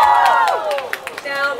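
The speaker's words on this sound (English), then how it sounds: "Big round of applause once again for Keanu Reeves." Audience cheering and whooping for Keanu Reeves at a 2012 IFC appearance: a short, loud burst of excited voices with a few scattered claps.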